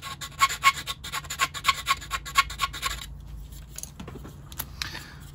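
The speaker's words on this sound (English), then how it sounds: "what we just have to do is file right down the length, only a couple of passes in each case" Repeated rasping strokes of a file worked along the window opening of a plastic Lima model coach, close and fairly quiet, in a quick uneven rhythm for about three seconds before fading to scattered light handling noises.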